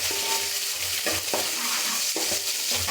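Curry leaves dropped into hot oil for a mother's home-style sardine fish curry: a steady, bright sizzle and crackle up close, with a few soft stirring scrapes against the pan.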